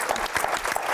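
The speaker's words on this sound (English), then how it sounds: "we applaud" A brief, dense burst of audience applause at a panel event honoring women leaders in Los Angeles, loud and continuous for its short span.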